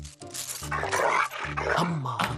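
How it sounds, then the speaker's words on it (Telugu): A dog in a Telugu comedy film scene gives a loud, continuous growling rumble lasting a couple of seconds, close and full over the scene's soundtrack. "ఇది కరిచే కుక్క అస్సలు అరవదు."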